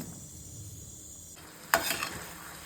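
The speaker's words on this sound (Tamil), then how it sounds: "இந்த சமயத்தில் நம்ம வறுத்து வச்ச சோயாவை சேர்த்துக்கிடலாங்க" Fried soya chunks drop into a boiling lemon garlic gravy, setting off one sudden loud sizzling splash that fades over about a second after a quiet simmering hiss.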